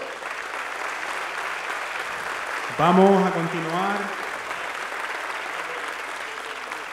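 Steady applause from the audience fills a police award ceremony in Mogán honouring local officers, with a voice speaking briefly over the clapping midway through.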